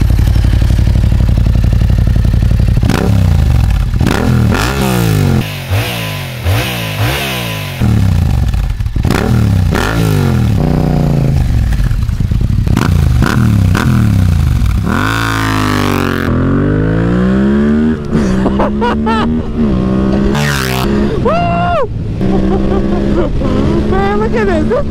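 A Yamaha MT-07 motorcycle with an Akrapovic full racing exhaust and reflashed ECU, ridden hard. It gives loud, close engine roar with repeated revving climbs and gear shifts, a few brief throttle drops, and steady rumble throughout.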